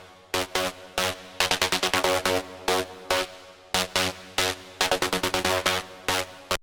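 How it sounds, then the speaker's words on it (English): Bright synthesizer saw-wave chords punch out in short rhythmic stabs, loud and close, with brief gaps between the bursts and no voices. "for a saw sound like this, listen to it."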